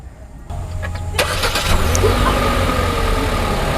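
A Hyundai Creta's engine cranks briefly as the key is held and catches, then settles into a loud, steady idle close by.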